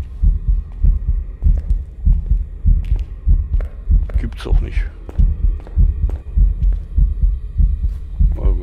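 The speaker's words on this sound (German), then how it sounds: "Herzschlag, wenn du tot bist" A heavy heartbeat throbs in Phasmophobia after the player character dies, a loud, regular double-thump pulse repeating throughout, with someone talking briefly over it.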